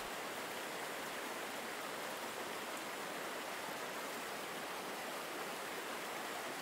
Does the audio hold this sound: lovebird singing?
no